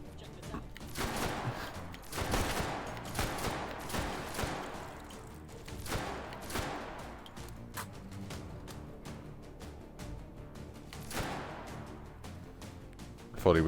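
A powerful gun fires in a VR shooting game, a series of sharp, moderately loud blasts spaced irregularly with quieter handling noises between them.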